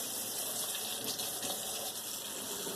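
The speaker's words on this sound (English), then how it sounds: "here goes the potatoes into the colander, and we're going to rinse them in hot water" Hot water gushes from a tap over boiled potatoes in a colander, a strong, continuous rushing splash close by with no pauses and no talk.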